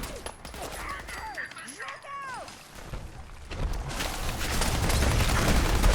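Gunfire in Fallout 4 aimed at a gulper, a rising spray of loud shots and rumble that builds and thickens toward the end, layered over creature cries and game effects.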